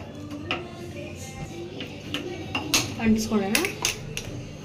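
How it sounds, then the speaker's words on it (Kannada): A pressure cooker lid is closed and the cooker set on a gas stove, producing close metallic clatters, clicks and knocks of steel cookware with a brief scraping ring. "ಕುಕ್ಕರ್ ಮುಚ್ಚಿಬಿಟ್ಟು ಗ್ಯಾಸ್ ಮೇಲೆ ಇಕ್ಕೋಣ"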